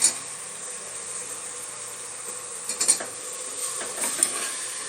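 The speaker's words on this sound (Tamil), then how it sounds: "வெங்காயத்தை சேர்த்து விட்டுட்டு வெங்காயம் நல்லா வதங்கட்டும்." Three sliced onions sauté in hot oil for an egg paneer curry, giving a soft, steady hiss throughout with a few faint stirring clicks and no talking.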